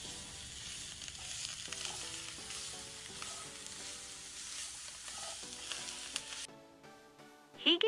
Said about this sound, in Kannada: ಟೊಮ್ಯಾಟೊ ಮತ್ತು ಈರುಳ್ಳಿಯನ್ನು ಒಂದು ಪ್ಯಾನ್ಗೆ ಹಾಕಿ ಫ್ರೈ ಮಾಡಬೇಕು